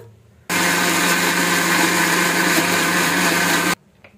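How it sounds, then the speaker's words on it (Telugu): Mixer grinder whirs loudly and steadily for about three seconds, blending a batter of banana, wheat flour and ghee for banana bread, then cuts off abruptly into quiet. "సో ఇప్పుడు ఇదంతా కూడా మిక్సీ వేసేసుకోవాలన్నమాట బ్యాటర్"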